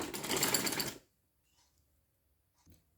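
A sewing machine runs a close, steady burst of stitching along the front of a collar neck for about one second, then stops, leaving near silence with a few faint handling clicks.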